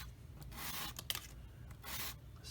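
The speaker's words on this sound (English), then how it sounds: "I get some wet and dry sandpaper, wet it, and then just" A small plastic part from a Tamiya 1/48 F-16CJ model kit is gently wet-sanded with wet and dry sandpaper, soft back-and-forth rubbing strokes, faint and close, with no talking.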